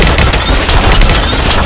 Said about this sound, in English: he threw a grenade